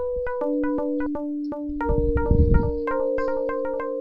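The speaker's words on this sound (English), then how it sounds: "see how that sound is kind of echoing off into the distance?" A bright Sega Genesis synthesizer melody of plucky repeated notes, each followed by echoing repeats that trail off into the distance.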